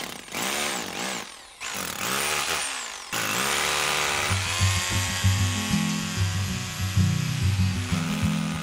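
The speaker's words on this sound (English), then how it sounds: "Oh, the warmth of the drill." A power drill whines and revs in short bursts outdoors on a plot in Ireland, then settles into a sustained high-pitched grinding drone that wavers in pitch, loud and close.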